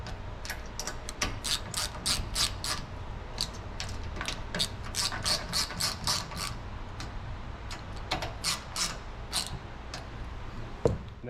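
Ratchet wrench tightening M6 bolts on a FASTLAB swing-out spare tire carrier for a Polaris RZR Pro, heard as rapid bursts of close metallic clicking with short pauses between strokes.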